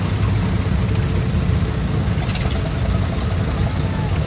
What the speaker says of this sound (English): Nice little 65 Case 180